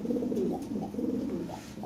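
Lahori pigeon cooing in soft, repeated rolling coos close by, a low throaty series of phrases over about two seconds, fairly quiet, with no voices.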